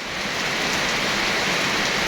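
A very heavy rainstorm pours down in a steady, dense roar of rain hitting surfaces, loud and unbroken throughout with no voices.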